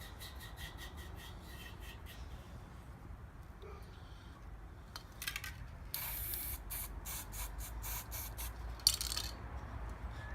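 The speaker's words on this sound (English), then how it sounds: "Spray black paint all over the place on the Weber." Quiet bursts of black aerosol spray paint hiss in short and longer pulses onto a Weber grill, growing more frequent partway through, close by with faint background rustle.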